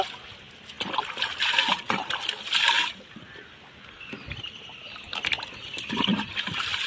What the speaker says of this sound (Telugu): ఇందులోని ఈ మెడిసిన్ అయితే మిక్స్ చేస్తున్నాను